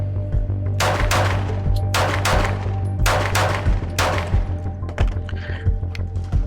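A Glock 17 Gen 6 COA pistol fires a string of about seven sharp shots at an uneven pace, close and loud, with a steady hum underneath and smaller clicks after the last shot.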